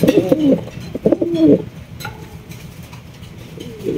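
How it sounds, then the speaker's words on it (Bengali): A pair of Black Beauty pigeons coos close by in a few throaty, rolling phrases, then falls quieter before a last brief coo. "এখানে রয়েছে আরো এক জোড়া বিউটি কবুতর"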